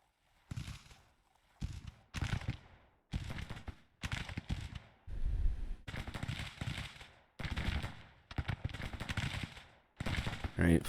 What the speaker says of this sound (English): Alright, firing is happening